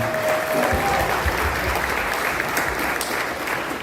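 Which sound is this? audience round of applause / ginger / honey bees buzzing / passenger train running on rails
audience round of applause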